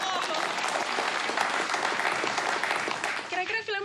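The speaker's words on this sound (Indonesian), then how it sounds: "Tepuk tangan dulu untuk Pak Anwar Kongo." Audience applause for a guest at an Indonesian film event, steady, close clapping from a crowd that continues for the whole clip before voices start at the end.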